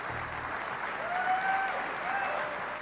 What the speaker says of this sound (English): Would you please give Margaret a great, great round of applause?